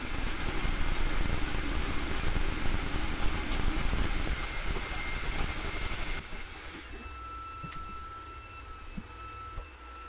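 A Creality Ender-3 V3 3D printer printing a small benchy boat gives off a steady mechanical whir and buzz with faint stepper-motor tones. The sound is close. It drops sharply partway through and then goes on more quietly, with a few small clicks and no talk.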